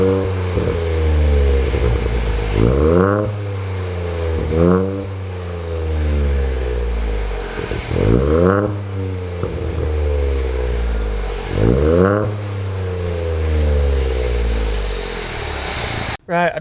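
A Ford Fiesta Zetec S Black Edition with a fitted Cobra exhaust revs repeatedly, loud and close, each sharp rise in engine pitch falling back to a rumbling idle, about five revs in a row.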